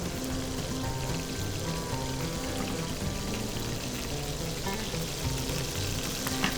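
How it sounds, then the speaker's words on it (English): Butter sizzling and browning in a pan alongside a steak, a steady dense crackle and hiss that holds evenly throughout, close and fairly loud with no talking. "You hear the butter speed up."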